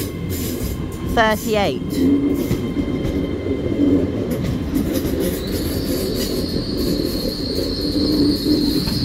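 A passenger train bound for Pembroke Dock rolls into Cardiff Central station, its wheels squealing briefly, with a steady rumble of the carriages, a tone on the platform and people talking nearby.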